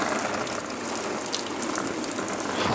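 Hot water runs hard and steady from a tap for wet sanding a car, a loud continuous gush with a faint rattling texture throughout.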